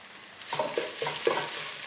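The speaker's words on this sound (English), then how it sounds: "Give it a quick stir. Let everything come together." Green chilies and curry leaves frying in a pan, a soft sizzle with a few quick spoon strokes and scrapes close by, no voice.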